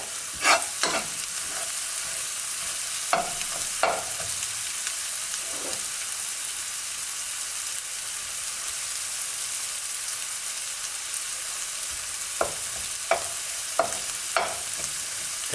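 Spices frying in oil for chicken rezala, a constant, even sizzle with scattered sharp clicks and scrapes of stirring, steady and close throughout.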